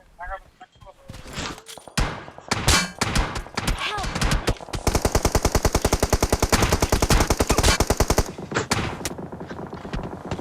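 Gunfire in the video game PUBG Mobile on the Erangel map: rapid automatic bursts and single loud shots, closing in a long sustained machine-gun volley, with excited talk among players underneath.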